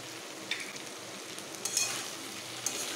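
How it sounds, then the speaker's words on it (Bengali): Small river fish, already fried, are stir-fried with spices in a pan, giving a close, steady sizzle. A few light scrapes and clinks from the spatula break through, with no talking. "মাছের সঙ্গে এগুলোকে আরেকটু ভালোভাবে এইভাবে কষিয়ে নেব।"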